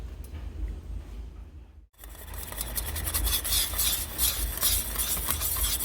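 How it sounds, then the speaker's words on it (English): Metal whisk scraping and rasping steadily in a pan of sauce over the fire, a continuous close scratching that starts after a short pause and grows busier, with a low cooking rumble underneath and no talking. "Put this back over the fire, whisk it up."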